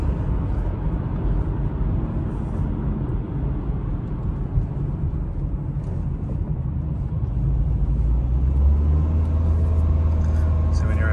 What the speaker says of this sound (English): We're going to go a few miles cruise on the freeway.